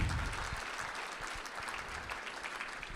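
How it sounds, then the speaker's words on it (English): Audience at an Arizona Senate forum gives a round of applause, a steady dense wash of many hands clapping together, moderately loud and continuous without talk. "Give them a bigger round of applause"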